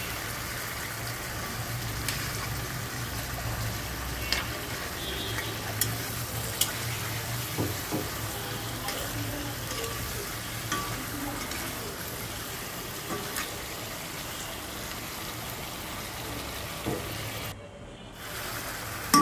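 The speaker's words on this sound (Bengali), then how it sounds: "আর মাছগুলো দেওয়ার পর তেলের ভিতরে হালকা একটু কষিয়ে নিতে হবে।" Fish lightly frying in oil while being stirred in a pan, a soft continuous sizzle with scattered utensil taps and scrapes, briefly dropping out near the end.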